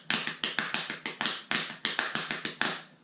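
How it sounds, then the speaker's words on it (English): Fingers tapping the lid of a cookie jar in a quick drum-like rhythm, about a dozen crisp, close, evenly spaced hits with no talking. "the last thing that I use to play my little solo on is a jar of cookies"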